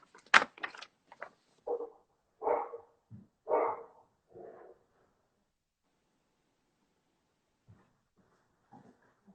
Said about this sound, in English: I got a dog barking over here.